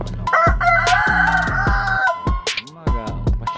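A rooster crows in a long, loud call with hens clucking close by, the call repeated among short sharp clucks on a farm where chickens are fed.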